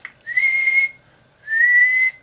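Two steady, sustained whistled tones into a microphone through a small homemade 6GK6 tube amp, each held for about half a second, close and clear with a short pause between them.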